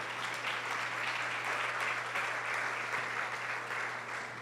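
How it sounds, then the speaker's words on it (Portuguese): A church congregation claps steadily and continuously throughout, a dense wash of applause with no voices standing out. "vamos aplaudir ao Senhor"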